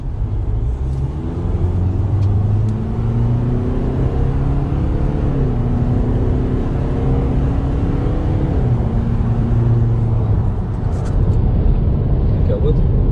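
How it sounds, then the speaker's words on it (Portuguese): A Volkswagen Amarok Highline pickup accelerates from 40 to 100 km/h as if overtaking a truck on the road, its engine droning and climbing through gear changes under continuous talking inside the cab. "Agora nós vamos fazer o 40 a 100, que simula a ultrapassagem de um caminhão na estrada."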